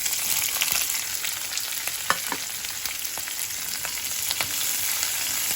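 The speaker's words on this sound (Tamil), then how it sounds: "இது கொஞ்சம் நல்லா ஃப்ரை ஆகட்டும்." Onions and Kashmiri chilli sizzle steadily in hot oil in a kadai, a dense crackling hiss with scattered sharp pops and occasional stirring clicks, close and continuous with no talking.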